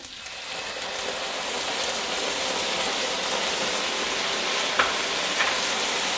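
Onion and tomato paste mixture sizzling loudly in a very hot pan for barbecue baked beans, a steady dense frying hiss that holds throughout with a couple of small pops near the end.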